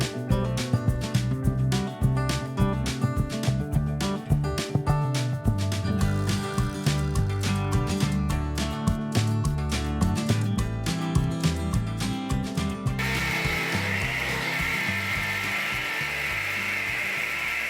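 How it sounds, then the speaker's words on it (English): Power drill boring out and widening a hole in timber during renovation of a 150-year-old Australian cottage, heard as loud, continuous ratcheting mechanical grinding with rapid clicking, shifting to a steadier whirring tone near the end. "I'll just drill it. We have to widen the hole a bit, should be right."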